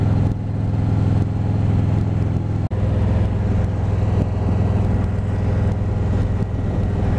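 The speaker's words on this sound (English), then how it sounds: "Absolutely love driving these back roads, folks, with the cool breeze blowing on you" Steady loud engine drone and wind rush from a vehicle riding along back roads, continuous and close, with one brief dropout partway through and no talking.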